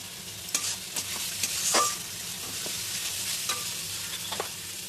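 Fish roe curry lightly sautéed in a pan, a steady broadband sizzle with several sharp scraping stirs of a spatula, close and even throughout without talk.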